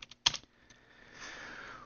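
A few quick keystrokes are typed on a computer keyboard, faint and close, followed by a low hum.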